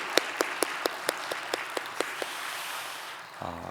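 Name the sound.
congregation applause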